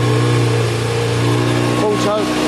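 A Yamaha XJ600 motorcycle engine warming up, running steadily and close by with a constant low drone and only slight shifts in pitch.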